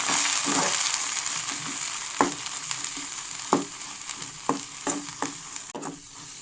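Goat brain frying with ginger garlic paste in a pan, steady sizzle under a spatula's irregular taps and scrapes against the pan, close by with no talk.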